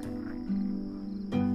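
Frogs croaking at night near a desert oasis, two close, loud, sustained droning croaks with a short pause between them over a faint night background.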